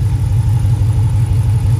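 Car engine fitted with an HPT camshaft revs loud and close, a steady, throbbing low rumble with a choppy lope that holds strong and even throughout.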